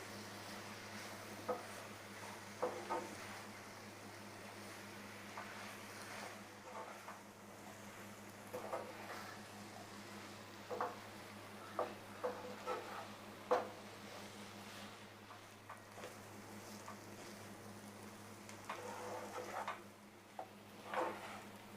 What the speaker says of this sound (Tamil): சப்பாத்தியை போட்டு வதக்கும்போது ஸ்டவ் வந்து ஹை ஃப்ளேமில் வச்சுக்கணும்